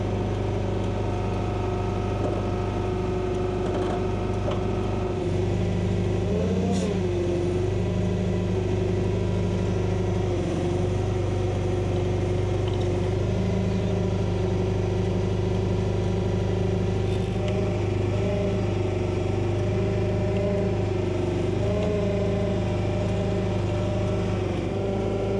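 Country Clipper 60-inch zero-turn mower engine running steadily while the mower is driven up onto a truck bed, a constant close droning hum with slight pitch shifts and no talk.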